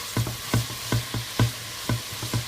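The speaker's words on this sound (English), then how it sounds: "I'm just turning that up a little bit, just get a bit of sizzle going." Onions sizzle in a pan, with a steady hiss and regular scraping strokes of a spoon stirring them, about twice a second.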